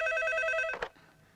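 Telephone bell ringing in a Hindi horror-romance film scene: a steady electronic ring with bright tonal harmonics, close and clear, cut off by a brief clatter as the receiver is picked up.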